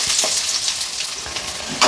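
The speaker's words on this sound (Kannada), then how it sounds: "ಇದನ್ನು ಎಣ್ಣೆ ಒಳಗೆ ಹಾಕ್ಕೊಂಡು ಫ್ರೈ ಮಾಡ್ಕೋಬೇಕು" A small chopped onion fries in oil in a pan for paneer masala gravy, giving a steady, close hiss and crackle that flares briefly louder at the end, with no talking.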